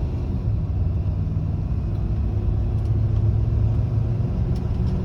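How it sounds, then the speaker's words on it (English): A car's engine drones steadily in third gear with a misfire, a continuous low rumble from inside the cabin with no voices. "Misfiring."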